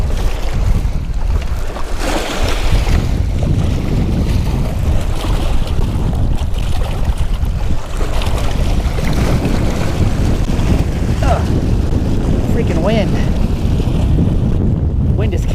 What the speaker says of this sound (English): Wind is catching my net and I can't flip it around.